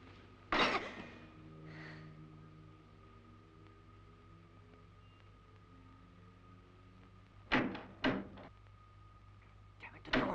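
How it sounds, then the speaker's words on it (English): A locked door is tried and rattled: one sharp burst of handle-and-frame clatter near the start, then a hum-filled quiet and a second cluster of rattling knocks later, with a final brief rattle at the end. "Damn it, the door's locked."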